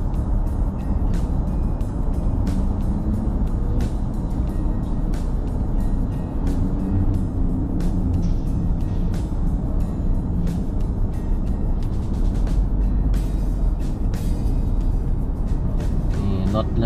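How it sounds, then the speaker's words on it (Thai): Continuous heavy road traffic on Rama 2 Road heading into Bangkok from Samut Sakhon, with a steady roar of cars, trucks and buses passing, an occasional air-brake hiss, unbroken throughout. "รถเริ่มจะเยอะแล้วนะครับ"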